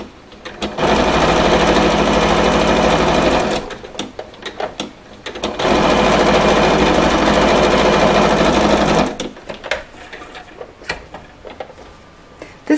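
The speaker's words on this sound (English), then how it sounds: "This is not meticulous sewing." A sewing machine stitches a crumb quilt block in two long, steady runs of about three seconds each, loud and close, separated by quieter handling and fabric noises.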